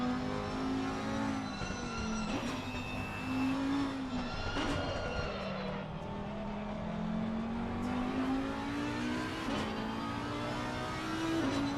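Audi race car engine in a racing game at Mount Panorama, a steady loud drone that rises and falls as the car revs through gears, with brief tyre skids and bumps along the circuit.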